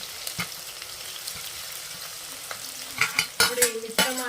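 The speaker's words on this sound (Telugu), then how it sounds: "ఉల్లిగడ్డ లైట్ బ్రౌన్ కలర్ వచ్చేంత వరకు వేగనివ్వాలి" Green chillies and onions fry in a pan with a steady low sizzle. Toward the end, a louder run of spoon knocks and scrapes comes in as the mixture is stirred, close by.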